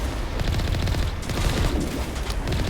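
Rapid bursts of sniper and other gunfire in the Mass Effect video game crackle continuously and loudly, dense overlapping shots with no talking.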